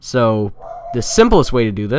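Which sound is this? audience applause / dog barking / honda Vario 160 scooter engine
dog barking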